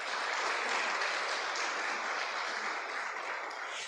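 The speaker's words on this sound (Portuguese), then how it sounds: "Dá um aplauso ao Senhor pela vida" A church congregation at a worship service claps together in a steady, even wash of applause for several seconds, fairly quiet and without voices.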